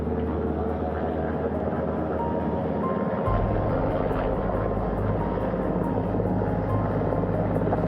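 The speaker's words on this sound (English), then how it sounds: "Hearing them begin to hover on the flight deck, which is just across from us" A helicopter hovers over a ship's flight deck during a post-splashdown recovery, its rotor and engine roar loud and continuous with a steady pulsing chop, the low drone deepening partway through.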